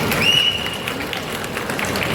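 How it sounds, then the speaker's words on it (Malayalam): An audience at a film pre-release launch event breaks into applause, a steady wash of many hands clapping with crowd noise throughout the short stretch. "അതിനും ഒരു വലിയ കയ്യടി നിങ്ങൾ പ്ലീസ്"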